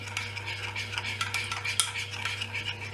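A spoon is stirred through a chocolate mixture in a bowl, scraping and clinking in a quick, steady rhythm close by. A low constant hum runs underneath, and no one talks.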